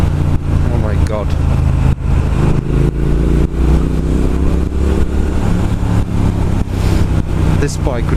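A 2019 Triumph Speed Twin motorcycle engine drones and rises in pitch as it accelerates, loud and continuous with wind noise, while a rider talks over it.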